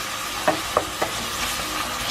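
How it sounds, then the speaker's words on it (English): Olive oil heating in a hot pan for risotto gives a steady, soft sizzle with a few brief crackles and pops near the start, no voices. "You can hear how it starts sizzling."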